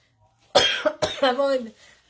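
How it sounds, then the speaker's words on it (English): A person coughs twice in quick succession, loud and close, during a spell of lingering illness, each cough followed by a rough voiced trailing tail. "It's just a cough."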